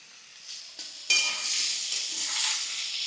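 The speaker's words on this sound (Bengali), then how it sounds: "তাই জন্য ভালো করে এই সবজিগুলোকে আমাদের ভেজে নিতে হবে" Vegetables fry in spices in a pan with a loud, bright sizzle that jumps up abruptly after a brief quieter stretch and then holds steady, with occasional stirring close by.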